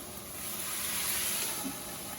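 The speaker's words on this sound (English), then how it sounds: "when we add the water, we're going to steam the vegetables" Vegetables for a stir fry sizzle and steam in a pan just after water is added, a soft continuous hiss and crackle heard close up with no talking.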